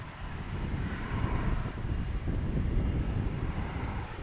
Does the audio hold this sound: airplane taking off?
yes